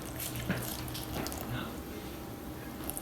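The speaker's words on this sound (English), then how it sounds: "now I'm going to put in 100 grams of water." Water pours into a container sitting on a digital kitchen scale while sourdough ingredients are measured, a steady trickling splash over a few seconds with light background noise.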